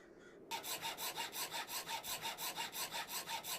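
A hacksaw sawing in the video game Cataclysm: Dark Days Ahead starts abruptly and keeps up a steady, evenly paced back-and-forth rasp of about a dozen strokes, close and alone.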